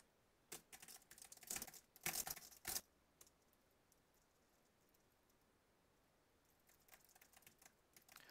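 Fast typing on a computer keyboard during a TypeRacer typing race: a close, quiet burst of clicking keystrokes, then a pause of near silence before lighter typing resumes toward the end.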